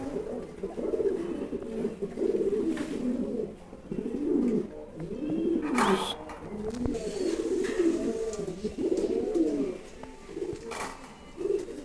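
Lahori pigeons at a farm coo over and over, with soft rolling calls that overlap in a steady, close chorus and a few short rustles between them.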